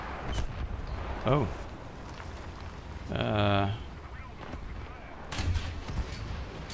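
A 75 mm tank gun fires in War Thunder gameplay, giving loud booming blasts with rumbling low tails amid engine noise, while a voice talks briefly over it.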